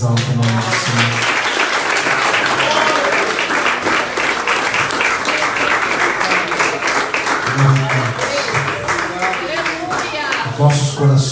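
Church congregation clapping loudly and steadily in praise, dense sustained applause with a voice speaking over it at times.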